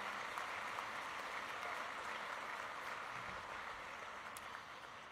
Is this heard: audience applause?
yes